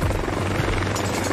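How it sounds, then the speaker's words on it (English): Three Boeing CH-47 Chinook helicopters taking off from a military camp, a loud, close, continuous rotor roar and engine drone with a rapid rhythmic beat. "Three Boeing CH-47 Chinook helicopters take off from Waterloo Camp."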